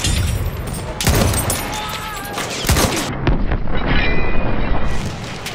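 Machine gun fire in the World War I shooter Battlefield 1, loud bursts of rapid shots and booms crackling close by in rough succession, with shouted in-game voices partly mixed in.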